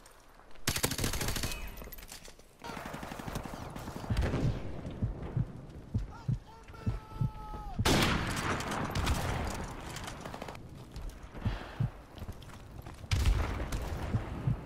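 Gunshots in Modern Warfare ring out as sharp, loud reports at irregular intervals, with bursts of automatic fire and booming impacts between quieter stretches.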